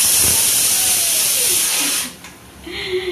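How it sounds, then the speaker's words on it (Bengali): A pressure cooker whistles as potatoes cook for aloo dum, a loud sustained hissing steam jet that runs for about two seconds, then cuts off and briefly resumes more faintly. "আর আমার এখানে আলুর দমের আলুর সিটি পড়ছে।"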